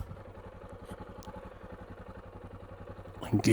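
A convoy of motorcycles approaching, heard as a steady pulsing engine rumble at a distance that grows louder toward the end, with a person talking over it.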